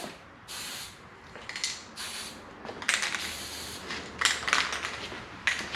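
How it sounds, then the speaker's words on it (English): Spray paint can hissing in short bursts onto a figure held low over a trash can, sprayed upward from below; repeated close hissy blasts with brief pauses, no speech. "Which is another reason why I use the trash can, because I can get down below it and spray up."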